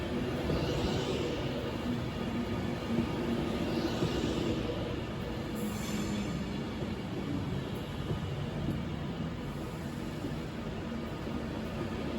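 A steady, broad rumble of a train pulling into a station at Carlisle, with continuous mechanical noise and a faint high whine, holding level throughout with no talking.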